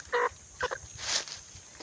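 A young Texas-breed pullet out in the forest clucks in a few short, close bursts separated by brief pauses, with no voices.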